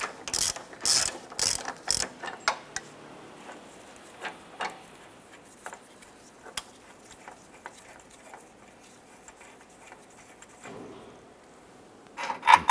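A ratchet wrench with an 18mm socket clicks in several quick bursts while removing a nut from the front lower control arm of a 2015-2020 Cadillac Escalade, followed by sparse taps and small metallic clinks before a final short ratcheting burst.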